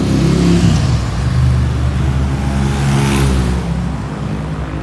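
A maroon Thonglor city bus on a Bangkok street gives a loud, close, steady engine rumble with low tonal drones, easing slightly toward the end amid traffic noise.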